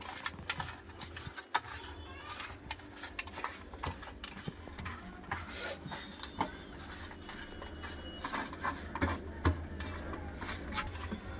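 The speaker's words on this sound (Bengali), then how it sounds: "একটু লঙ্কা গুঁড়ো দিয়ে দেবো লেবুর রস আর ভালো করে মাখিয়ে নেব" Fish pieces being hand-mixed with chili powder and lemon juice, with close, irregular wet squishing and clinking against a bowl over about eleven seconds, and no voices.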